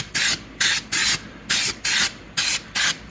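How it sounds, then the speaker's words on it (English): Weld-through primer sprays from an aerosol can onto a metal bracket during a '78 Ford F150 big block swap, in eight short, sharp hissing bursts at an even rhythm, close and fairly loud, with no talking. "So we will get a little bit of weld-through primer on there."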